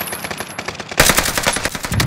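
Rapid gunfire from a video game match on the Caldera map: dense bursts of automatic fire and sharp single shots, close and loud, growing heavier partway through.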